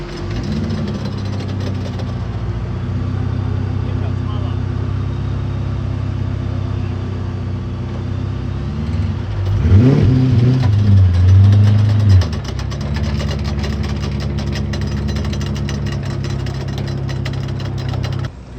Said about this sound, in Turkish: yan yan geliyor araba